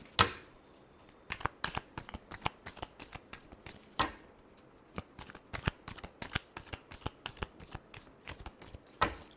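Tarot cards are shuffled by hand in quick rippling bursts of crisp riffles and slaps, close and clear, with short pauses between runs and no talking.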